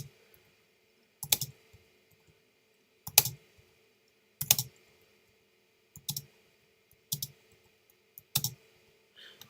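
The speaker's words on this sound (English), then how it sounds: "so I can type that, go ahead and paste that in" Keys tapped on a computer keyboard in short, crisp bursts of a few clicks each, repeating roughly every one to two seconds with quiet gaps between, close and clear with no voices.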